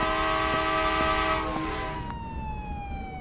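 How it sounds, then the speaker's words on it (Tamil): A WAP-7 electric locomotive train arriving at a station in the Indian Theft Auto video game, with a loud, steady multi-tone horn that fades and drops in pitch as it pulls in. "ஸோ ட்ரெயின் வந்துச்சு கைஸ்."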